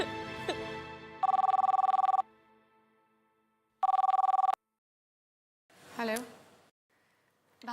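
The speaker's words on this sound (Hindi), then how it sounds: "आपका फोन है भाभी साहब।" A telephone rings twice in loud electronic bursts, each about a second long, with a quiet gap between them, then a short voice sounds briefly afterward.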